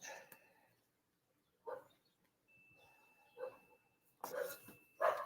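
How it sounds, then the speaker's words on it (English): A dog barks a few times at moderate distance, with short separated yips and barks spread through a quiet room and a faint steady tone in the background. "Just a minute, dog's gonna bark."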